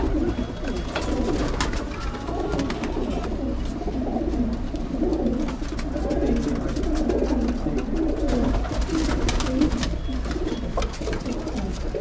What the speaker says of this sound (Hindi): ये देखो मैं दूंगा कबूतर